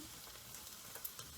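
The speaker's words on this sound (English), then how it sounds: "I add my onions, because we love onions over here, man." Onions frying together with cabbage and sausage in a pan, a faint, steady broadband sizzle with a few soft stirring clicks, quiet and continuous with no talking.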